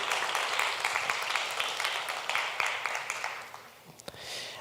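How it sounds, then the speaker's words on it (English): Audience applause at a tourism youth congress in Nevis, honoring schools and teachers: dense, steady clapping from a moderate crowd, fading and thinning out toward the end. "Round of applause for the different schools and teachers."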